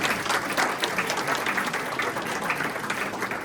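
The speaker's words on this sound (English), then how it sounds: "Big round of applause for Uğur one more time," Applause from diners at a Turkish community iftar dinner during Ramadan, a continuous, even wash of many hands clapping at moderate volume, holding steady throughout without voices standing out.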